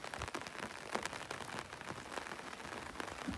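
Steady rain falling with a dense, even patter of drops that holds at a constant level for the whole stretch, with no voices over it.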